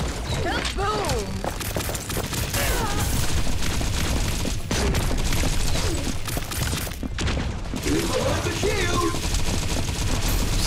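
Rapid gunfire in the mobile shooter T3 Arena, dense bursts of shots and booms packed across the whole stretch, loud and close, with a voice talking over parts of it.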